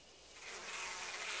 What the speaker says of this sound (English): So there's bees going all over there